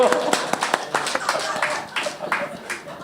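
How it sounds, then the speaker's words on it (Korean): A church congregation at a Sunday Eucharist service in Korea breaks into a brief round of clapping, a dense patter of many hands close by that carries steadily for a few seconds. "박수 한번 주세요."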